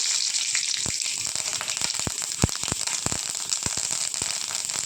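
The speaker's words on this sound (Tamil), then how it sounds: "ஒரு கடாய் எடுத்து எண்ணெய் ஊற்றிருக்கேன் கொஞ்சம் கடுகு போட்டுக்கிறேன்" Mustard seeds crackle and pop in hot oil, sharp irregular bursts over a steady sizzling hiss, close by.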